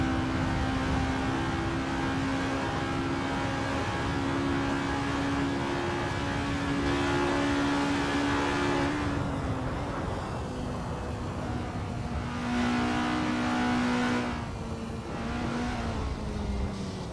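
A formula race car in the video game Assetto Corsa, running a practice out lap at Estonia, its engine drone rising and falling steadily through gear changes, loud and close, with a brief dip mid-lap and no talk.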